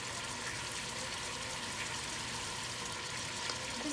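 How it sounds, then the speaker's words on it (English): Water is dumped into a cooking pot of Cuban oxtail with garlic, a steady close gushing and sizzling wash that continues evenly throughout. "Add some water, so I'm gonna add some water in here and just dump in some water."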